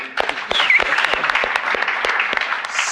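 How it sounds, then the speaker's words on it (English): An audience applauds at a business leadership event, a dense, steady patter of many hands clapping close by, with a couple of brief cheers or whoops mixed in. "let's give him a round of applause"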